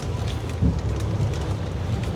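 Steady rain falls at a house, a dense, even hiss with low rumbling wind noise underneath, continuous and fairly loud with no speech.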